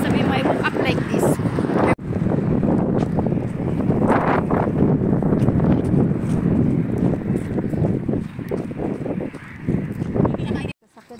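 A strong sea breeze buffets the microphone on a beach in Oman, with gusty rumbling wind noise under people talking throughout.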